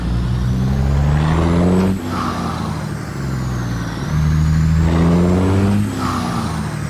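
An old Caterpillar diesel truck engine runs loud and close, its steady low rumble rising and falling in pitch through two long revving cycles as the rig gets underway on a hilly route.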